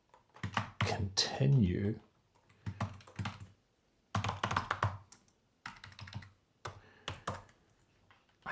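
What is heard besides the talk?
typing on a computer keyboard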